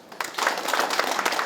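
An audience at a regional airport logistics forum breaks into applause after the provincial governor's speech, a brief burst of many hands clapping that swells quickly and stays dense.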